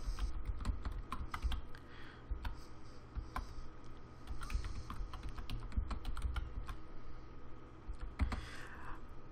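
Steady typing on a computer keyboard while entering database values, a continuous run of close, dry key clicks with small pauses and occasional louder strokes.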